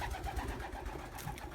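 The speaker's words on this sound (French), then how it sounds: "là déjà il y a 2 jeunes, pigeons pan blanc croisés voyageurs" Two young crossbred white homing pigeons coo close by in a pigeon loft, soft repeated low throaty calls over about a second and a half.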